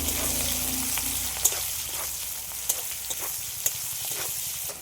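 Chopped onions fry lightly in a pan for pepper chicken, a steady close sizzle with a few sharp stirring taps and scrapes, no speech.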